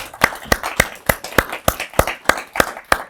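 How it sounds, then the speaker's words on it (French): Sparse, evenly spaced claps, about a dozen sharp hand claps in a steady rhythm from a small audience applauding a guest at a masterclass, close and clear without talk. "on va t'applaudir"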